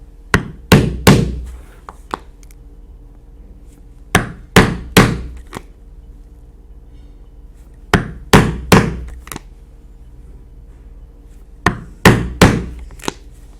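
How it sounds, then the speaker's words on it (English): A hammer strikes a punch to cut 3/16-inch holes in leather for saddle tack chaps. Sharp, loud knocks come in four clusters of about four blows each, separated by short quiet gaps. "we'll punch 8 3/16 inch holes as shown on your pattern"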